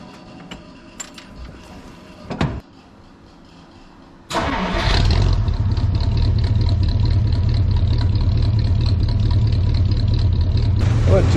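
A 1959 Dodge, unstarted for months and running on an old battery, sits quiet with faint rustling before a short crank, then catches and settles into a steady, loud, rumbling idle that holds close by.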